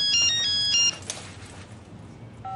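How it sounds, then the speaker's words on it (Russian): An indoor telephone rings in repeated electronic tone bursts for about the first second, then falls quiet amid low room noise before another tone begins at the end. "Звонят."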